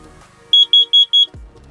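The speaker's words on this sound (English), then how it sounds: "carbon monoxide detector, test it. It'll go beep, beep, beep, beep." A carbon monoxide detector being tested gives four loud, high-pitched electronic beeps in a steady rhythm, each a short double pulse, followed by a low thump.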